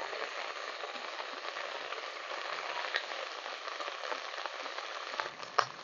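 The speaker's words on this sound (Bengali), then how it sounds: "পেঁয়াজ বাটাটাকে কিন্তু খুব ভালোভাবে কষিয়ে নিচ্ছি।" Onion paste sizzling hard in a hot pan while being cooked down for Bengali doi katla fish curry, a dense, steady crackling fry close up with a brief clatter near the end.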